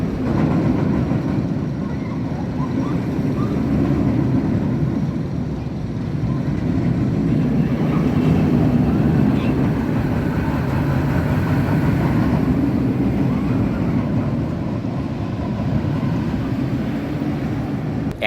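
A steady, loud rumbling roar of the Blue Hawk roller coaster train at Six Flags Over Georgia running along its track, with continuous clattering and wind noise throughout, no voices.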